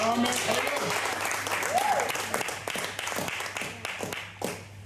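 A church congregation claps and cheers in praise of the Lord, loud rapid applause filling the room with voices mixed in.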